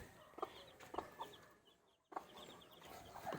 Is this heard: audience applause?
no